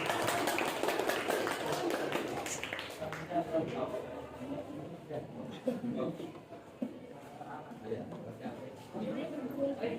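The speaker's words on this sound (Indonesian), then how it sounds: "Kalau sama semua, beri tepuk tangan." Classroom students clapping together, a dense spread of hand claps from a nearby group that runs for several seconds alongside scattered chatter and voices.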